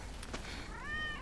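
A cat in the video game Final Fantasy 7 Remake gives a single short, fairly quiet meow near the end, with faint background sound before it.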